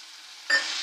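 Chopped tomatoes drop into oil with frying green chillies for urad dal, setting off a sudden close burst of sizzling that continues steadily after a quieter simmer.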